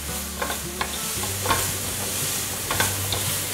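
Soy sauce, white pepper and sugar stir-fried together in a hot pan, with a steady sizzle broken by several sharp scraping tosses of the spatula; close and fairly loud, no talking.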